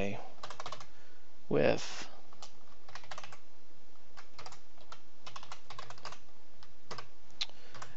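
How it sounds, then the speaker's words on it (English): Computer keyboard typing while programming in Python: a steady, irregular clatter of keystrokes running throughout, with a person speaking over it. "while I'm typing this"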